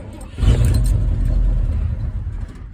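A Ford 302 V8 with a Speedmaster carburetor and 3 1/2 inch exhaust fires up cold after sitting a week, catching at once into a loud, deep, rumbling idle that holds steady and close.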